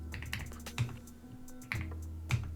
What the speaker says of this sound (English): You can just type in 1365 right here.